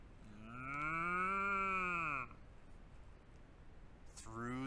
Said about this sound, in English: mooing and baaing and clucking round him